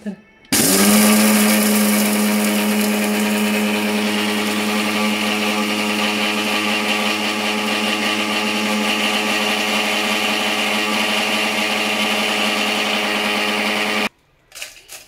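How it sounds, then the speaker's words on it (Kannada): A kitchen mixer grinder whirs loudly and steadily, grinding dried red chillies and coriander seeds for puliyogare powder, starting abruptly and running continuously before cutting off. "ಫಸ್ಟ್ಗೆ ಮೆಣಸಿನ್ಕಾಯಿ ಧನಿಯಾ ಹಾಕೊಂಡಿರ್ತೀವಲ್ಲ ಅದನ್ನು ಗ್ರೈಂಡ್ ಮಾಡ್ಕೊತಾ ಇದ್ದೀನಿ"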